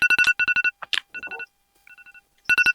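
A telephone rings in repeated bursts of electronic trilling tones, loud and close, with short pauses between the rings and no talking.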